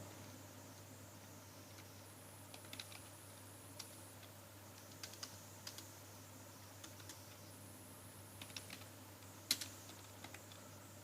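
Computer keyboard typing in Tally ERP 9 on a quiet desk, soft scattered keystroke clicks in short irregular runs with pauses over a low steady hum.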